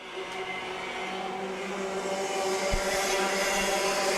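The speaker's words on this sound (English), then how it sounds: "Aiden Dodge is really mashing the gas here" A racing kart engine drones at high, steady revs during a main-event race, a strained, buzzy note with layered harmonics climbing slightly, heard at moderate distance with no other sounds breaking through.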